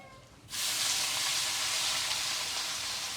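Onion frying with whole cumin for pav bhaji: a loud, dense sizzle bursts in suddenly as the onion hits hot oil, then holds as a steady crackling hiss close by, with no voices.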